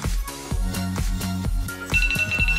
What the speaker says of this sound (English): So I'm going to set my 10-second timer.